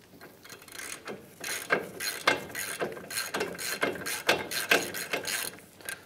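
A ratchet backs out a front brake caliper bracket bolt on a 2007-2015 Mazda CX-9, with rapid, repeated clicking strokes in an uneven rhythm throughout, close and fairly loud.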